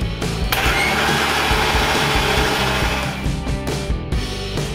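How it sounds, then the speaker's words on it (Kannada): A mixer grinder runs loud and steady, grinding coriander leaves with a cup of curd into a smooth paste, its motor whine constant with slight shifts in pitch throughout. "ಸ್ವಲ್ಪ ರುಬ್ಬಿದ ನಂತರ 1 ಕಪ್ ಮೊಸರು ಹಾಕಿ ನುಣ್ಣಗಾಗುವವರೆಗೆ ಪೇಸ್ಟ್ ಮಾಡಿಕೊಳ್ಳಿ."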